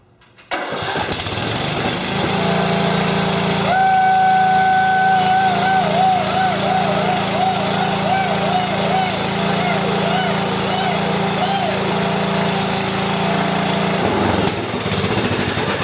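A small overhead valve engine, freshly repaired with a new head gasket, starts up and runs steadily with a loud, close, buzzing drone, a brief rising whine in the middle, then cuts off near the end.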